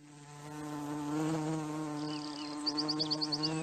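Animated bees give a close, loud, steady buzzing drone, and a run of quick high chirps joins near the end.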